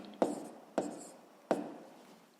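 A pen scratches out entries by hand in a table during a sixth-grade maths exercise: three short, distinct strokes spaced evenly, each fading quickly, faint and close.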